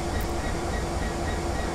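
A passenger train in the Train Sim World game idles with a continuous low rumbling engine drone and a steady hum, loud and unchanging with no motion.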